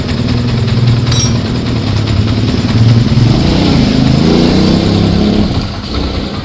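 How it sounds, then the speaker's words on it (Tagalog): A Yamaha Sniper 155 motorcycle engine runs loudly and close after water pump seal, impeller and bearing replacement, a steady throbbing rumble with slight rises in revs, settling a little lower near the end. "Pahintayin natin uminit yung makina para malaman natin kung nagbago talaga yung tunog."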